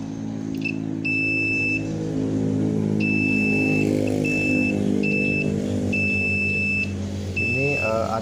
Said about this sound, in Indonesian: Ini ada dua buah dioda diukur bolak-balik tetap nyala ya, tetap bunyi buzzernya